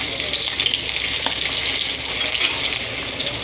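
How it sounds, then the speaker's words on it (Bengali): Potato pieces sizzle in hot oil, making a loud, steady, close frying hiss with a few faint stirring clicks throughout. "আগে আলুটাকে একটু একটু লাল লাল করে ভেজে নিচ্ছি"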